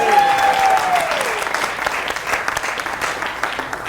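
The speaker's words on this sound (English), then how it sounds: "So can we clap again properly now?" Audience at a live script reading claps loudly and steadily, a dense burst of applause that eases slightly but keeps going to the end.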